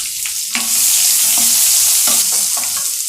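Sliced onion and a handful of frozen peas stir-frying in a spoonful of oil, a loud steady close sizzle broken by several scrapes and clacks of a spatula stirring in the pan.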